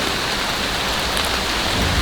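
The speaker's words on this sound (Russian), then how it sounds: "Идет дождь, сильный ветер." Heavy rain pours in a dense, loud, unbroken roar, with strong wind, beside a campfire built in a stream, and no one speaks.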